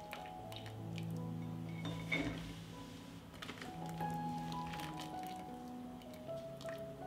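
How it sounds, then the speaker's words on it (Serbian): Cooked whole beans are lifted out of their cooking water into a bowl, with soft wet squishes and drips of liquid over a faint background hum. The sounds are close and quiet. "Pasulj ću iz ove vode izvaditi u činiju"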